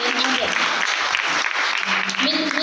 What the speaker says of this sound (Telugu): చప్పట్లు కొట్టరా మీరు?